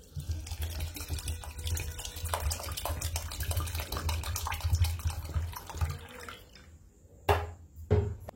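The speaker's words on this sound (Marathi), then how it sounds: "आता आपण याच्यामध्ये पाणी घालून घेऊ" Water pours steadily onto washed idli rice in a bowl, a close, full rushing splash that keeps going, then eases off into a few short separate splashes at the end.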